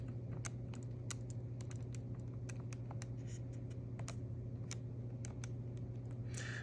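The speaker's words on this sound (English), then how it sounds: "I'm just going to type this in real quick" Numbers are typed on a keyboard for a calculation, a quick irregular run of light clicking keystrokes over a steady low hum, fairly faint and with no talking.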